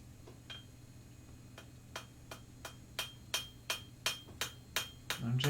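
Hammer blows on hot steel while forging a knife from a horseshoe, a steady series of ringing strikes growing louder and closer over a low background hum, with a clatter at the end.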